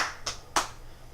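Two quick, sharp hand claps sound close and crisp, about a third of a second apart, over a quiet background.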